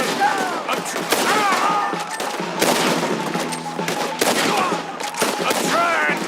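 Rapid bursts of gunfire crackle through a Red Dead Redemption 2 shootout near a wagon, dense overlapping shots and volleys filling the whole stretch, with shouting voices mixed in.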